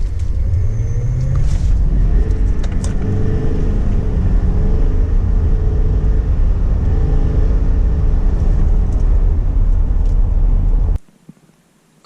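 A 2020 heavy-duty Duramax pickup launches from a second-gear start and accelerates hard, a loud, steady engine rumble that climbs through the run for about eleven seconds before cutting off abruptly into near silence.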